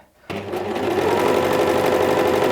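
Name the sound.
sewing machine stitching to secure elastic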